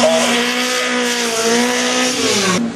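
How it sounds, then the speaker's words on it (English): Vintage rally cars on a demonstration run, engine note held loud and near with a steady droning howl and slight pitch shifts, tires faintly squealing, ending with a drop in tone as a car passes. "it's a nice demonstration of these cars that used to rally all over the world"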